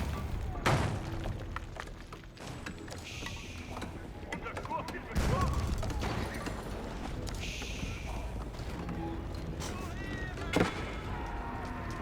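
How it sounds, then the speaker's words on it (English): Royal cannons firing on a battlefield in Age of Empires 4: heavy booms and thuds scattered among other battle noise, under continuous commentary. "Oh, I hear a cannon. Got some royal cannons now deployed in the field."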